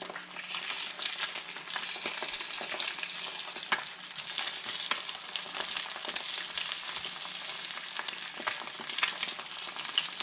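Fried eggs crackling and sizzling steadily in a hot diner-style pan, cooking fast, with a continuous bright spatter of fat and occasional sharper pops, close and fairly loud throughout with no voices.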